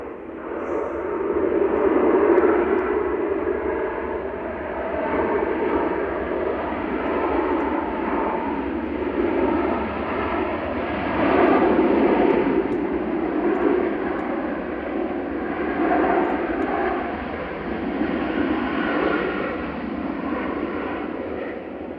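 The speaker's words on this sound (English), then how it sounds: "EasyJet from Amsterdam behind this, arriving" An EasyJet airliner arriving at Manchester Airport gives off a steady, broad engine roar that swells and eases slightly, loud and sustained with no talk.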